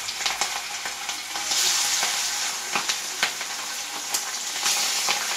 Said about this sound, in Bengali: প্রথমে আমি মাছগুলা ভাজবো, কিন্তু হালকা ভাজবো।